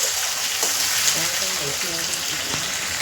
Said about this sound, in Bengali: এবার যেটা দেবো টমেটো আর কাঁচা লঙ্কা দিয়ে একটু ভাজা হোক